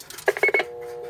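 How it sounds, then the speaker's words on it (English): A dime drops into a Western Electric 1A1 single-slot payphone, giving a quick series of bright metallic chimes and clinks followed by a short steady ringing tone. "I would deposit a dime."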